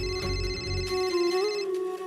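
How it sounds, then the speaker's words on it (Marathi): A telephone rings indoors in a Marathi TV drama scene, a steady electronic ringtone tone holding for about two seconds with no one speaking. "शरूचा फोन."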